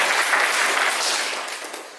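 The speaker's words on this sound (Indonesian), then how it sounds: "Tepuk tangan buat artisnya." A short burst of applause from a group in a vocational school classroom, steady clapping that fades slightly toward the end.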